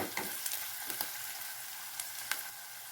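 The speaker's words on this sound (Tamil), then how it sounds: "இஞ்சி பூண்டு வெங்காயத்தை நல்லா எண்ணெயில் வணக்கிக்கலாம்." Ginger, garlic and onion sizzling and crackling in hot oil and ghee, a steady soft frying hiss with small pops and the occasional scrape of stirring.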